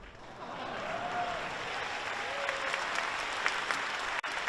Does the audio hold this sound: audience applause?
yes